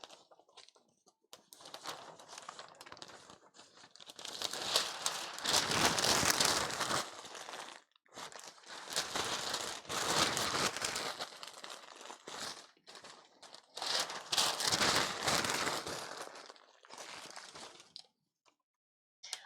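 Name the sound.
crinkling of material while building a cosplay headdress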